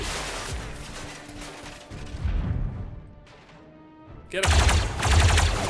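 Blaster gunfire in the Star Wars Zero Company video game, shots aimed at running, dodging droids, coming in bursts of sharp blasts with a crash partway through and a brief spoken line over the action.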